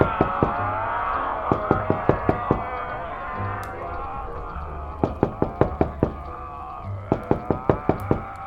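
Sharp knocks pound on a door in quick bursts of four to six raps, separated by pauses, set against a tense radio-drama background bed of droning music, with no voices.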